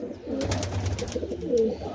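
Pigeons in a fancier's loft in Punjab: a few close, throaty coos rolling one into another, moderately loud, with no talking.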